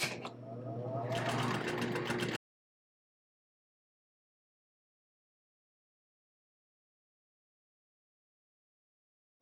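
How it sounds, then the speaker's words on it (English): Sewing machine hemming fabric ears for a kid's craft project, running in a steady close whir for about two seconds before stopping abruptly into silence. "For the ears, I am going to go ahead and hem them so they don't fray."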